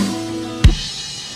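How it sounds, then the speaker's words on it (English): In Ableton, a MIDI drum kit plays a single sharp snare hit with an open hi-hat ringing across it, one loud, close strike standing alone. "So when the snare hits, I'm going to open the hi-hat up so it sounds like this."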